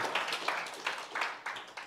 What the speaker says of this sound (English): Let's give a clap of praise to the Lord.